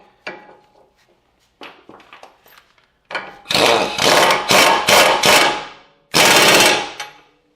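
Ratcheting and tightening on a transmission bolt of a Ford 6F50 six-speed transmission, heard as several sharp metallic bursts of clicking that come in quick succession after quieter taps and clinks.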